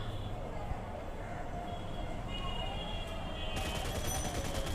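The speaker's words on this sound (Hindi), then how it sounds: "मैं यहाँ पे प्री फायर देता हूँ, उसी समय मुझे इनका किल मिल जाता है।" Gunfire in a mobile battle-royale shooting game: rapid, continuous shots under steady game background noise, moderately loud and close, with no one talking.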